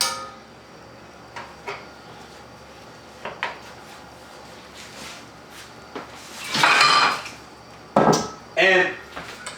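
Pollo guisado being plated family style, with dishes and utensils clattering: scattered light knocks and clinks, then louder, longer bursts of scraping and clattering near the end.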